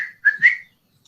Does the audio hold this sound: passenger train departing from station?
no